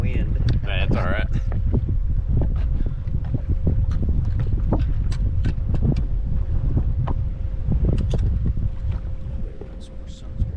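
Wind roars steadily across a fishing boat out on a sulfur fishing trip. Loud, constant buffeting and microphone rumble fill the whole stretch, and a voice is briefly audible near the start.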